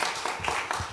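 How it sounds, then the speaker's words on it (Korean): A church youth-group congregation claps in welcome, a brief burst of several quick uneven claps close by. "큰 박수로 환영하겠습니다."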